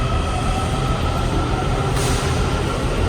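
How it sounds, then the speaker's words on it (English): A Washington DC Metro Orange Line train rolling past close by, a loud continuous rumble and roar of wheels on rail for the whole stretch, with no talking. "goodbye, Orange Line train."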